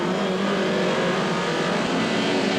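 A 1990 British Touring Car Championship race car pulls out of the pit lane, its engine giving a loud, steady roar that stays close and unbroken throughout.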